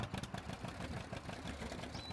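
Tractor engine in Farming Simulator 19, a 620 model hauling a forage box, runs with a steady low mid-pitched drone and light clatter, constant and moderately close, no voices over it.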